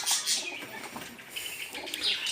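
Young pigeons in a rooftop loft give short soft cooing and chirping calls, close and fairly clear over a light background hiss.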